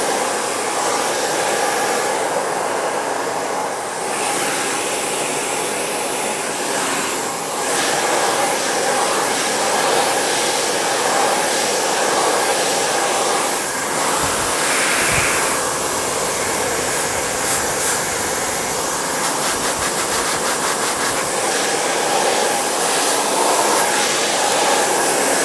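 Hair dryer blowing steadily while styling hair in a salon, a loud continuous whooshing roar with slight shifts in pitch as it moves, running throughout.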